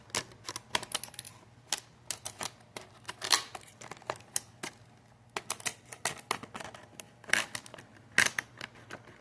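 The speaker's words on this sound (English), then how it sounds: "Get the trusty scissors." Scissors snipping and cutting into plastic packaging around a POP RACE RWB Porsche 930 model car, close up in a quiet room, as a rapid run of crisp, irregular clicks and snips.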